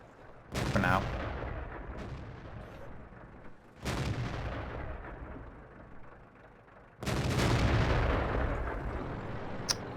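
Tank cannon shots in World of Tanks, aimed at a Hellcat, boom out three times at spaced intervals, each a loud close blast followed by a rumbling decay.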